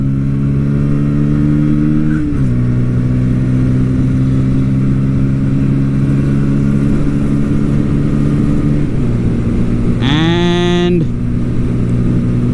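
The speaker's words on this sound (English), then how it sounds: "Listen to the exhaust." A Bajaj Pulsar P150 motorcycle exhaust drones loudly and steadily, shifting pitch a couple of times, then surges upward in a quick rising rev as it accelerates from a standstill.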